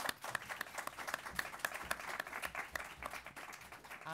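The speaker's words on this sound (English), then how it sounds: "Can we give a round of applause to all our speakers?" Applause for the speakers at the close of a panel session: a steady patter of clapping from a modest audience, fairly quiet and even, with a few sharper individual claps and no voices.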